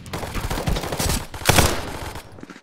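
Rapid bursts of gunfire in the co-op VR shooter Contractors VR, dense overlapping shots with a louder volley midway, fading toward the end.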